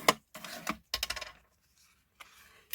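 A sheet of paper being folded into a tent card gives several short, crisp creasing and rubbing bursts separated by pauses, close by, ending with a sharp snap.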